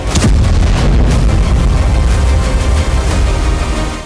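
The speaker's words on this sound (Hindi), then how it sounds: "क्रीमिया के सेवास्तोपोल में कई धमाके हुए हैं।" Repeated loud explosions from drone attacks in Sevastopol, Crimea, booming and rumbling continuously through the whole stretch with heavy low-end thuds and no talk.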